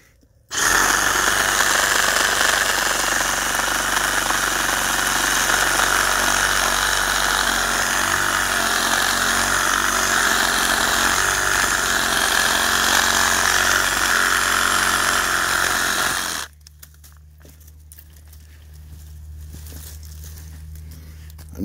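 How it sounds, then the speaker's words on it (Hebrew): A cordless reciprocating saw cuts through heavy oak wood with a loud, steady, harsh buzz for about sixteen seconds, then cuts off, leaving a quiet hum. "זה החיתוך של מסור החרב."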